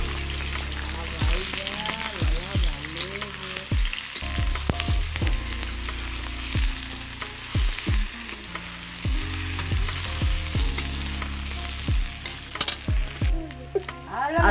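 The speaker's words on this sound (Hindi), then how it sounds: "अब हम इसमें डाल देंगे ये पत्तों के पीस और इनको कर देंगे अच्छे से फ्राई।" Taro leaf pieces frying with browned garlic in a pan, a steady sizzle running throughout with occasional stirring clatter, while a voice talks intermittently over it.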